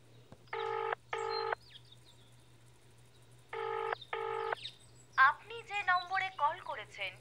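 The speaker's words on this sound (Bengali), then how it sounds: "স্কুলের ফোন বেজে গেল, কেউ তুলল না।" A telephone rings in two double bursts of electronic trilling, each pair evenly spaced with a long gap between, used as a sound effect in a horror audio story; a voice begins speaking right after.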